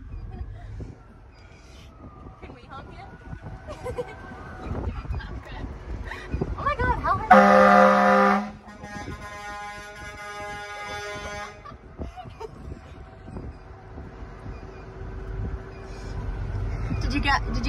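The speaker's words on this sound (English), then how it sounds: "You know, you're going to honk the horn?" A fire truck horn gives one loud, blaring honk partway through, with people talking before and after it inside the truck.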